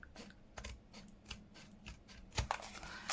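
Scissors snipping through cardboard packaging for a craft project, a run of short, crisp cuts and rustles close by with a louder crunch near the end, no talking.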